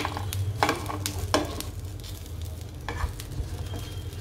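Coconut powder sizzles in a pan, close and steady, while a spatula scrapes and stirs it in several distinct strokes.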